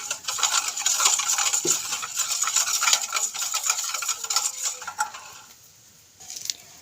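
A spoon stirring white oil into orange cake batter in a bowl, continuous scraping and sloshing with metallic clinks against the side, close and fairly loud, easing off near the end.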